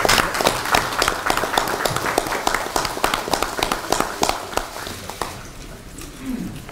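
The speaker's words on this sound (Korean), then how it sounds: "박수 한번 보내드릴까요?" Applause from an audience at a Korean speech event, loud close clapping with distinct individual claps standing out of the crowd wash, thinning out toward the end as a low murmur remains.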